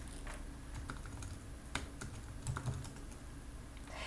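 A search is typed on a computer keyboard in a steady, quick run of soft, close key clicks with a few louder taps, quiet overall and with no talk.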